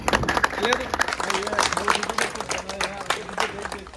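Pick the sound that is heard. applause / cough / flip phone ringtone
applause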